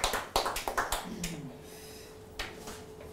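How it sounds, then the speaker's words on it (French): Scattered audience clapping for a seminar candidate, a handful of sharp, close claps in a quick burst that thins out, then a few more claps near the end. "Allez, merci de l'applaudir."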